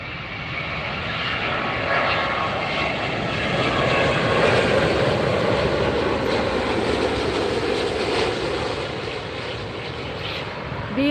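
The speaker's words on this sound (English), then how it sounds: "Beautiful ANA aircraft touching down." An ANA Boeing Dreamliner touches down at LAX, its jet engine roar loud and steady for the whole stretch, with broad rushing noise that swells in the middle and eases slightly toward the end.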